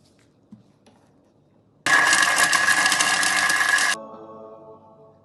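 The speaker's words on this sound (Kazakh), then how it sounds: "10 секунд 8-ші жылдамдықта езіп аламыз" A kitchen machine blitzes lemon zest and peel at speed 8, a loud, dense whirring grind that starts abruptly and runs for about two seconds before cutting off and winding down, in an otherwise quiet room.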